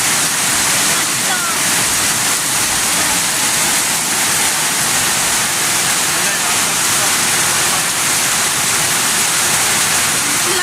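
Heavy rain pours steadily in a dense, loud roar that fills the whole stretch without a break.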